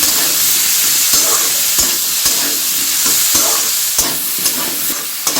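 Vegetables and green peas being stirred while frying in a pan of oil, a steady close sizzle broken by repeated scraping strokes of the spoon.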